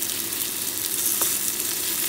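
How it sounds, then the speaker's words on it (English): Onion frying in a pan gives off a continuous, loud, close sizzle with one brief scrape partway through, and nobody speaks. "Ja teraz przysmażę na złoty kolor cebulkę."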